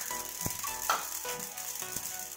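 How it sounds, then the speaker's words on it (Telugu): Coriander seeds dry-roasting in a pan for mushroom curry give a steady close sizzle with a few sharp rattling taps as the seeds shift and are stirred. "ధనియాలు వేసుకొని దోరగా వేయించుకోవాలి"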